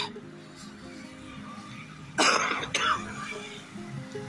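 Harsh coughing and throat clearing from someone out walking toward a roadside tea stall: two close, rough bursts, the first longer, over a low steady background hum.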